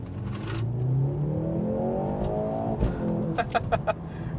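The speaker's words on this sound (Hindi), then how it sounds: "इसको मैं वापस डाल देता हूँ कंफर्ट मोड पे, व्हीकल अभी ऑटो मोड पे, एंड फ्लोर करता हूँ।" A 2024 Mercedes C43 AMG floored in comfort mode, its engine note climbing steadily in pitch under full throttle, then a quick gear change and a few sharp pops near the end, heard close with no talking.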